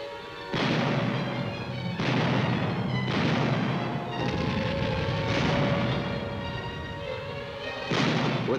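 Army 90mm anti-aircraft guns fire in a series of heavy booming blasts, roughly one per second or two, loud and close, each with a rolling rumble.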